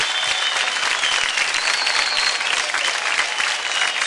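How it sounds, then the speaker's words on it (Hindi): Loud, continuous audience applause fills a televised dance competition stage, a dense steady roar of clapping from a large crowd with no pauses. "दादा के लिए जोरदार तालियां।"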